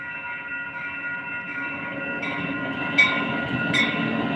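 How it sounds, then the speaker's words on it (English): Pacific Surfliner passenger train rolling past close by, a steady loud rumble with ringing wheel-on-rail tones and a few sharp squeals or clanks near the end. "Train! Another train! The Pacific Surfliner."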